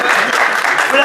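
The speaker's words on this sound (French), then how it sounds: "faut l'applaudir, il a besoin de ça" Brief burst of applause for a player called up to a team at a school play, a dense, fairly loud wash of clapping with a voice mixed in.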